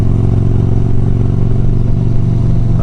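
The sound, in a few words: motorcycles riding at Biketoberfest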